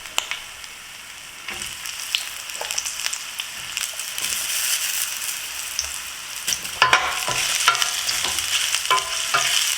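Mushrooms fry in oil in a pan during a chunky veggie stir fry, giving a steady crackling sizzle with scattered scraping stir sounds that grow busier and louder toward the end.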